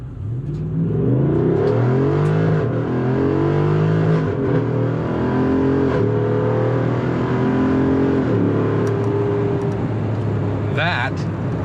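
A 2024 Jeep Wrangler Rubicon 392 Final Edition's 6.4-liter HEMI V8 roars loudly, revving up through several rising gear pulls, then settles into a steady drone, with a short whine near the end.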